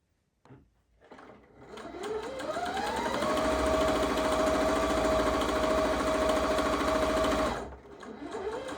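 Sewing machine running a single straight stitch along a folded dress hem: a close, loud motor whir ramps up, holds a steady rapid mechanical chatter for several seconds, then stops, followed by a brief restart.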